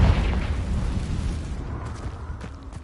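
A Bombarda spell explosion in Hogwarts Legacy, starting with a deep booming blast and then a long rumbling decay, with scattered debris crackles fading out afterward.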